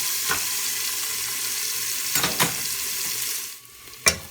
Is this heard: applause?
no